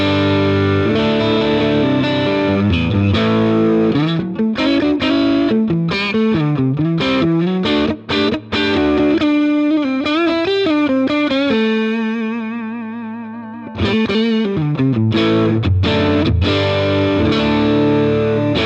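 Electric guitar played through a Chiron Klon-clone overdrive pedal into a Fender Deluxe Reverb amp, a loud, saturated tone with chords and sustained notes ringing out, ending in a long held note and a brief silence before playing resumes.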